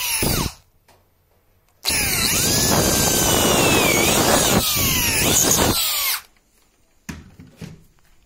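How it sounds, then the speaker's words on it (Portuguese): A power drill bores a hole in wood for a screw in the crossbar of an X-leg table. Close and loud, it runs steadily for about four seconds with a rising and falling pitch, framed by short bursts and handling noise. "Furação feita."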